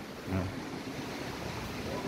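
Strong sandstorm wind roars outside a restaurant as a steady, broad rushing noise with a brief gusty swell near the start, close and loud.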